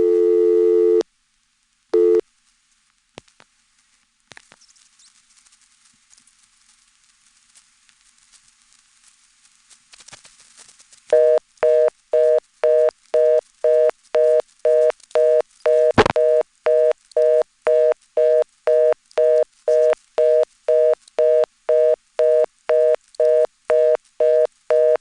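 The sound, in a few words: telephone reorder tone from dedicated reorder trunk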